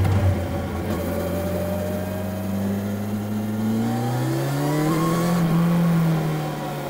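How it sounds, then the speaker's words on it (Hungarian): A 2025 Kawasaki Versys 1100 four-cylinder motorcycle engine revs up smoothly, its steady loud drone rising in pitch and then easing off, heard close with no talking. "a Kawasaki még gyárt négyhengeres motorokat, mert elképesztő élmény egy négyhengeres motorral menni"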